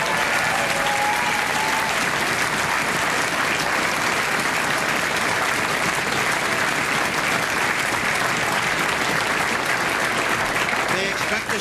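An election-night crowd at a Canadian federal election event breaks into loud, sustained applause, dense clapping filling the whole stretch with a faint murmur of voices mixed in.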